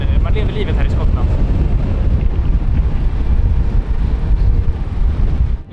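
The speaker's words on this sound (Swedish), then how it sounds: "Speciellt när vinden blåser 25 meter per sekund rakt i käften." Strong wind of about 25 metres per second, carrying horizontal rain, roars continuously and loudly across the microphone in the Scottish Highlands at Kyle of Tongue, a sea inlet. The gusting buffeting fills the whole stretch.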